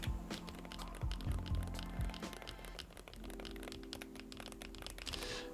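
Dense, steady clatter of keystrokes typed on a Wooting 80HE keyboard with Gateron magnetic switches, a continuous stream of soft, close clicks and taps with a few heavier thocks early on, no voices.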